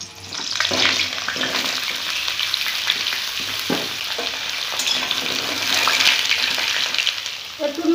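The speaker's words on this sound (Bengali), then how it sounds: "এবারে আলুটা আমি ভেজে নেব।" Whole potatoes fry in hot oil in a pan, giving a steady, close sizzle and crackle that runs unbroken from start to finish, with a few soft scrapes and clinks mixed in.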